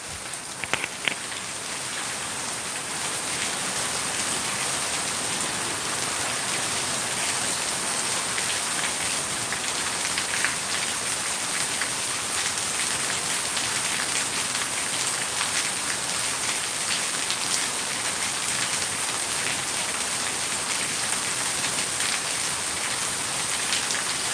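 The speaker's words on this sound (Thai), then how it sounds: "พัทยาฝนตกหนัก ตั้งแต่เมื่อคืนยันเช้าเลยนะครับ" Heavy rain in Pattaya pours steadily onto surfaces, a constant dense hiss with scattered louder drops, with no talking.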